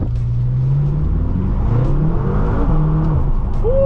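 A BMW M6 launching from a stop in a parking lot, wheels briefly spinning: a loud, close engine drone with rising and shifting pitch as it accelerates, filling the cabin continuously.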